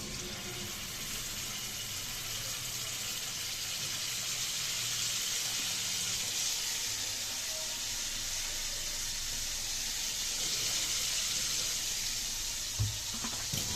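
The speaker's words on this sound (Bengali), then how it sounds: "তেল গরম হয়ে গেছে পেঁয়াজটাকে ভেজে নিচ্ছি" Onions frying in hot oil in a wok, a steady broad hiss like rushing water that holds throughout at moderate level, with a single soft knock near the end; no speech.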